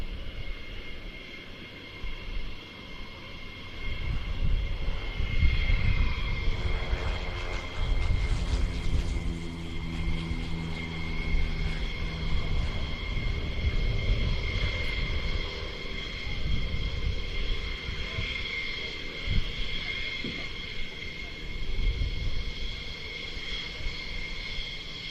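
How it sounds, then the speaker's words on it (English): Cessna F-152 light aircraft taking off at an airshow departure, a steady droning propeller engine that swells and sweeps in pitch as it passes, heard at a distance under a continuous background rumble. "on your screen now, taking off a Riem Cessna F-152"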